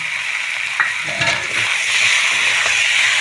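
Jackfruit sautéed with fried prawns sizzles loudly in a pan, a dense steady frying hiss with a few spatula scrapes and knocks, close and continuous throughout.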